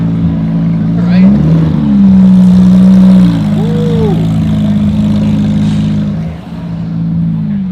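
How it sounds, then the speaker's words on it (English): Porsche 911 GT3 engine revving at a Huntington Beach hypercar meet, a strong sustained tone rising and falling with a brief rev up front, heard near amid crowd chatter. "That GT3 sounding amazing."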